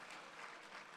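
Brief burst of soft, distant clapping from a keynote speech audience, even and continuous for a second.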